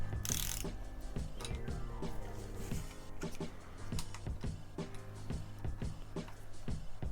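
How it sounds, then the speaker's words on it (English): A tool tightens the stem pinch bolts on a bicycle headset, making a quiet, repeated ratcheting clicking with irregular metallic ticks over several seconds, close by. "Go ahead and tighten up the stem pinch bolts."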